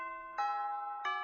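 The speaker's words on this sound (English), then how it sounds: "That's the bell." Electronic school bell chime in the visual novel game Hatoful Boyfriend: two clear, sustained ringing tones struck one after the other, clean and alone at modest volume.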